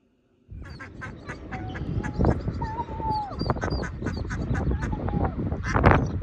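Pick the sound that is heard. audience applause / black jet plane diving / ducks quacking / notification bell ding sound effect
ducks quacking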